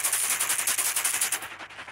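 Rapid harsh hissing hi-hat hits pushed through heavy distortion, a fast gritty rattle that stops abruptly near the end.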